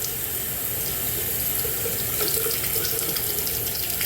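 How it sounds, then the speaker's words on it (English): Water poured from a container into a cup of moss, a steady close splashing trickle that runs without pause from start to finish, alone with no voices. "Time to water my wife's moss."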